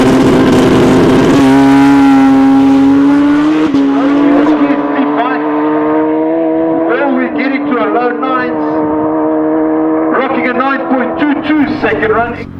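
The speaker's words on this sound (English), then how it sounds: "Here we have Mr. Craig Zank on his turbocharged drag-built Hayabusa" A turbocharged drag-built Suzuki Hayabusa howls loudly down the strip in a sustained high-revving run, its pitch climbing through gear changes. A commentator talks over the engine.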